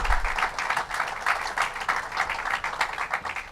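Crowd applause at a public announcement event on Long Island, a steady, dense wash of clapping filling the whole stretch at moderate loudness with no speech over it.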